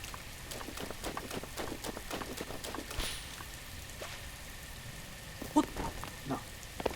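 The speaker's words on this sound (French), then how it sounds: "à chaque fois il pleut" Rain in the Breath of the Wild video game, a steady soft patter of drops with scattered small splashes, faint and even throughout.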